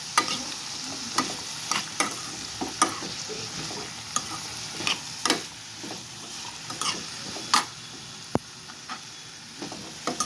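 Broad beans frying in a pan with salt as a spoon stirs them, giving a steady soft sizzle broken by repeated close scrapes and clicks against the pan.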